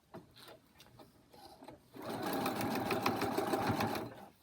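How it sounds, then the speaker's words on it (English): A sewing machine sews a seam in an FPP Cricket butterfly charm quilt block, starting with a few short stitching bursts before settling into a fast, steady whirring run close to the microphone. "then continue sewing down your seam"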